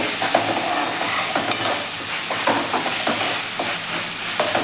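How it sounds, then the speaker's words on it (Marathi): Manchow soup vegetables being sautéed in sauce over raised heat, a loud, dense sizzle with repeated scraping and tossing of a spatula against the pan, continuous and close without any talking. "आता आपण परतून घेऊयात सॉसमध्ये"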